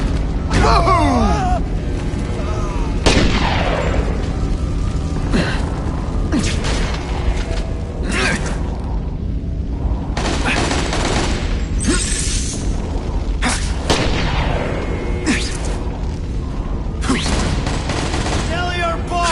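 Gunfire and combat noise from the video game The Amazing Spider-Man 2 on PS5 come as loud bursts of shots and booms mixed with mechanical clanks, while characters shout over the action.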